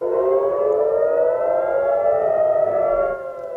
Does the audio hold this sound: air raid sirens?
yes